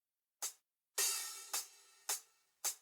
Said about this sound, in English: So the hi-hat sounds like this without compressor.